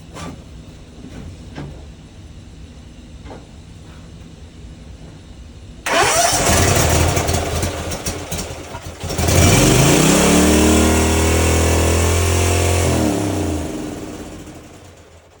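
A Kawasaki FR691 engine on an ExMark mower, freshly fitted with spark plugs and needing carburetor adjustment, cranks and fires up loudly, then revs hard and settles into a steady, close, throaty run.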